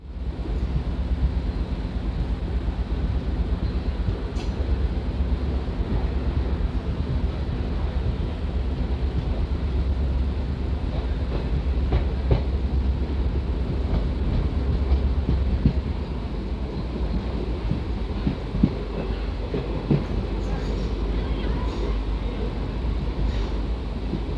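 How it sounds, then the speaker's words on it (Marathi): A freight-line train departing Salgare railway station on the Kurduwadi–Sangli route gives a steady, continuous low rumble with faint wheel clatter throughout, no speech. "सलगरे रेल्वे स्टेशनवरून आता आपली गाडी डिपार्चर होत आहे"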